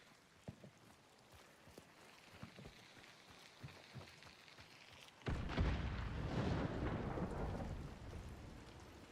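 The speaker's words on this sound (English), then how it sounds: "It is raining, so it's slightly more difficult than normal to hear footsteps" Heavy rain in a video game, starting as scattered drips and taps before swelling into a loud, steady downpour with a thunder-like rumble partway through.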